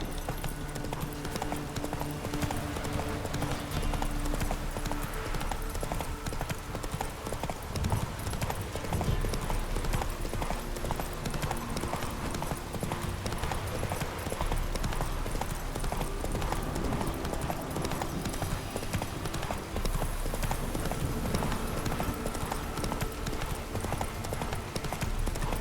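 Roach the horse gallops in The Witcher 3, with a steady, dense drum of hooves running throughout, close and loud under game ambience.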